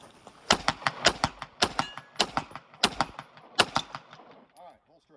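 Handgun shots fired at a target during spring training at a chain link fence range, a string of sharp, loud reports in an irregular rhythm with faint talk between them.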